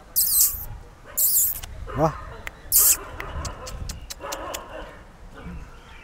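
At an animal shelter, a three-legged amputee dog lets out a few short barks and yelps, heard close amid kennel noise and people talking nearby.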